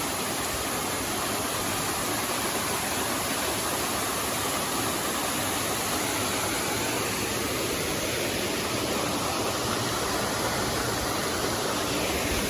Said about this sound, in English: That's where this waterfall is located.